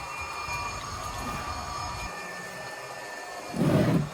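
A Hornby model train under DCC control runs around a layout track with a continuous rolling, rumbling rattle of wheels on rail, a louder clattering burst near the end.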